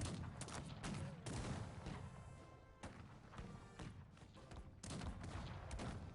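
Rapid multi-barrel cannon fire from a Cossacks 3 battle, a dense continuous barrage of overlapping thuds and booms with brief dips, loud and sustained throughout.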